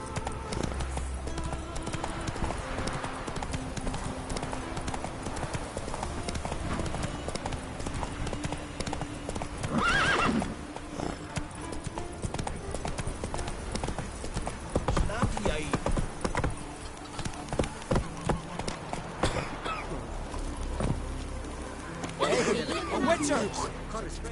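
Horse hooves clip-clop at a steady gallop across a stretch of road in The Witcher 3, a continuous rhythmic drumming under in-game sound and talk, with a brief whinny partway through.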